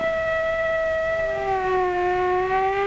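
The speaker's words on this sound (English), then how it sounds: "What does the siren on the fire truck say?" A fire truck siren wails in a steady, loud tone that slides slightly downward in pitch.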